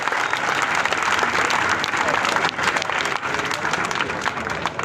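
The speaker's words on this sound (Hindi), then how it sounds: "एक बार सर के लिए जोरदार तालियां होनी चाहिए भाई।" Loud, sustained applause from a seminar audience in Hisar, many hands clapping together in a thick, continuous roar with faint crowd voices mixed in, lasting the whole stretch.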